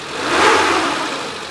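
A 1995 Suzuki Carry Futura van's engine revs up, a loud, steady mid-pitched roar that swells to a peak and then eases back while staying high, with no voices present.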